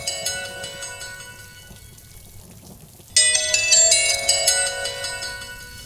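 A mobile phone ringtone signals an incoming call, a melodic electronic tune that plays quietly, pauses briefly, then returns louder and brighter, with no talking.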